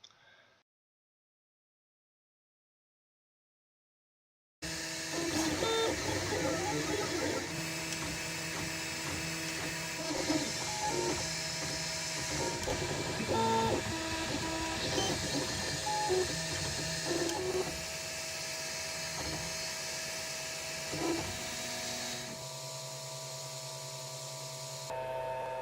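A Flashforge Dreamer 3D printer prints a part with support material, its stepper motors whirring and chirping in a busy, changing mechanical pattern close by after a short silent start, the tone settling into a steadier hum near the end.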